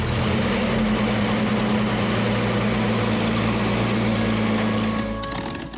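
A Supermarine Spitfire's propeller engine runs loud and steady at idle, a continuous droning rumble that fades slightly at the end.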